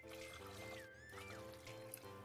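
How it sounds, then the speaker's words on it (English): Water is poured into a pot of Vietnamese crab thick-noodle soup broth, already holding marinated crab chunks and shrimp; a steady, close, continuous pour with a light trickling wash. "Add about 3 bowls of water to the pot,"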